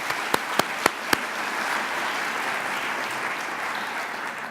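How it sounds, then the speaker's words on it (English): An audience at a college spring opening meeting applauds the marketing team, steady clapping filling the room after a few sharp isolated claps at the start. "a round of applause for my marketing team"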